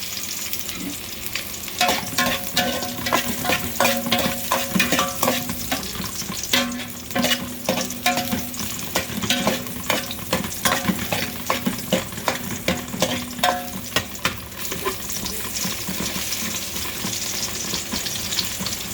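Garlic and ginger fry in a pan for tinola chicken, giving a continuous sizzle with rapid, repeated clacks and scrapes of a utensil stirring throughout, no voices.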